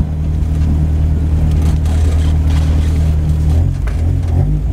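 A loud, close engine drone from a Mk2 Golf GTI 16v fitted with individual throttle bodies during drag racing at Killarney, holding a steady low harmonic roar throughout.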